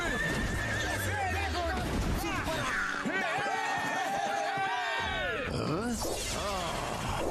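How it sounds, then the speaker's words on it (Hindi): A cartoon horse in a Motu Patlu animated movie neighs with long, rising whinnies over continuous galloping clip-clop, loud and busy with other effects and excited voices around it. "चल मेरे घोड़े।"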